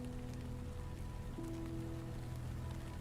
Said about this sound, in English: The gentle sound of rain tapping against the roof creates a rhythmic lullaby.